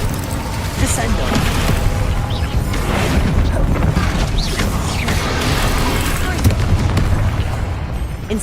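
A Descendo spell in Hogwarts Legacy, heard as a loud, sustained rumbling crash with mechanical clatter and bursts amid a dense, steady wall of combat effects.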